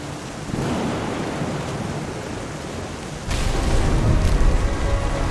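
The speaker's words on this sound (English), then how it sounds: "The thunder sounded much too close and full of angry power." Rolling thunder rumbles through a stormy scene in the video game What Remains of Edith Finch, a broad, heavy roar that swells and grows louder and closer partway through, with rain-like hiss throughout.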